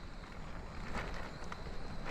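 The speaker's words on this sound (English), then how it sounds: "It is cold and windy." Cold, steady wind buffets the microphone at a solo tarp camp in Iceland, a low continuous rumble with soft gusty swells and no voices.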